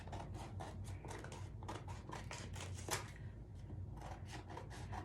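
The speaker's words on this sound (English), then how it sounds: "we're gonna take our scissors that we have here" Scissors snip through a paper sheet for Blue's Clues gender reveal cupcake decorations, making quiet, close, rhythmic cuts and rustles that repeat in quick bursts.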